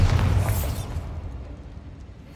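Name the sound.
explosion from the Bombarda spell in a video game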